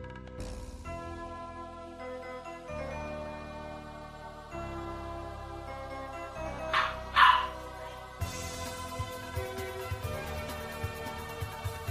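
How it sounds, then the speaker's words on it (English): A creature in a Kingdom Hearts 2 randomizer game gives a short burst of high, yappy dog-like barks, like an angry puppy, over steady game music. "Sounds like an angry puppy."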